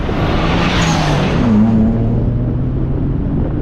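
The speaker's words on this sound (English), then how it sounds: "The twin turbocharged inline 6-cylinder provides a soundtrack filled with pops and bangs and whistles and whooshes." A modified 1989 Nissan R32 Skyline GT-R with a twin-turbo inline-six roars loudly and steadily close by, its engine note rising slightly in pitch partway through before holding a sustained rumble.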